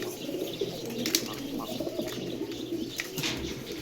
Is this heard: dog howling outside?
no